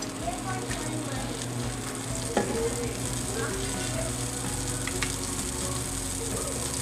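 Olive oil crackles and sizzles in a heated pan on a burner, a steady close frying hiss with light stirring and utensil taps.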